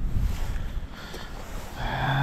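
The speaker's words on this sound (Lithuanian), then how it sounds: "Vėjas čia tikrai ne iš pačių maloniausių" Wind gusts across a frozen lake at Žagarė near the Latvian border during ice fishing, a loud, rough roar buffeting the microphone that swells and settles without any talk.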